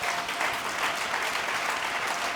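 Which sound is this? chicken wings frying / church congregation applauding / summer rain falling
church congregation applauding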